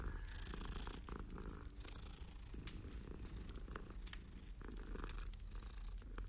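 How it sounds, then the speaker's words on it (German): A cat in Hogwarts Legacy purrs steadily while being petted, a close, continuous rumbling rhythm with faint soft rustles and no talking. "Nein, ich wollte nicht nochmal Katze streicheln."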